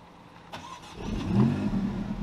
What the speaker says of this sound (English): we should probably start it up